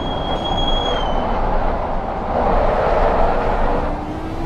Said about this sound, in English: you can hear the tires sort of making that noise as if I'm slightly scrubbing the tires